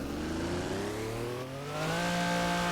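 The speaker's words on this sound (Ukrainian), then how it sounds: "заводимо двигун" A tuned car's engine in the BeamNG.drive driving game revs steadily upward, its droning pitch climbing continuously and loud throughout, with no voices over it.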